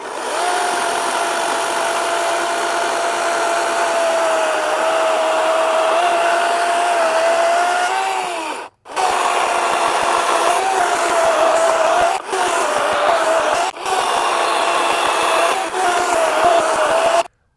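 A SKIL 18-inch battery chainsaw cuts into wood with a loud, steady electric whine, stopping briefly midway, then restarting in several bursts with short pauses between them.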